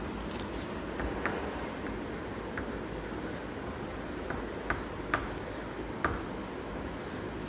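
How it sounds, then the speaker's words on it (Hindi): A pen or marker writes steadily on a surface as the month name is written out for a children's lesson, a continuous close scratching texture with occasional small taps, and no talking. "चलो लिखते हैं उसको"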